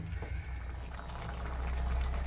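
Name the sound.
egg tadka dal boiling in a pan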